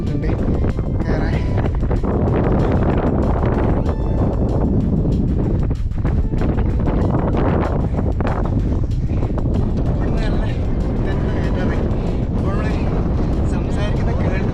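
Strong, steady wind buffeting the microphone on a steep hilltop trek at Kondarangi Hills, a loud, continuous roar and rumble that fills the whole clip with no break.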